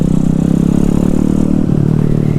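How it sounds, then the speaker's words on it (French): A Honda Grom fitted with a swapped 212cc Zongshen engine roars steadily and loudly at close range, accelerating with a continuous droning engine note, and no voices are heard. "à peine j'accélère, bah, ça accélère aussi fort qu'une MSX 125"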